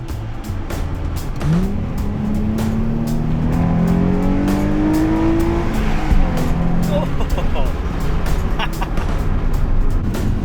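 A Nissan 350Z fitted with an Mrev intake drives on the road, a steady close engine drone with a couple of rising gear pulls and some tire and road noise, voices talking over it.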